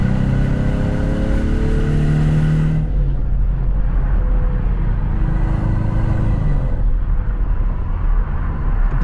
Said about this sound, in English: Oh, here we got an acceleration.